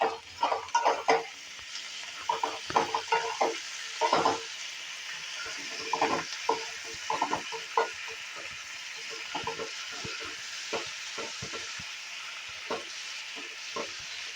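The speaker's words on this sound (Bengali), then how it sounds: "নাড়াচাড়া করে মিলিয়ে দিলাম নুন হলুদটা, লঙ্কার গুঁড়োটাও।" Paneer and capsicum stirred in a pan with salt, turmeric and chilli powder over lowered heat, giving irregular scraping and stirring clicks over a soft, steady sizzle.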